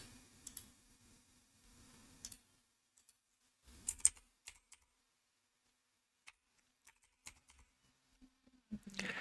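Bursts of computer keyboard typing while a name and a date of birth are entered into an online sign-up form, sharp clustered clicks separated by short pauses, close and clear with no voices.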